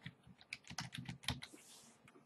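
Quick, close keystrokes on a computer keyboard, a short burst of soft tapping with no talk.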